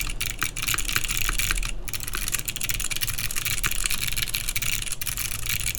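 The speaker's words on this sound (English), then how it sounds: "I actually really like how the clicky sound in this board. It's a very nice tactile switch" Clicky tactile mechanical keyboard switches typed in a steady, crisp patter of close, sharp clicks throughout.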